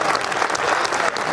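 An audience at a Hindi comic poetry recital breaks into a burst of dense, lively clapping, loud and close, filling the short moment.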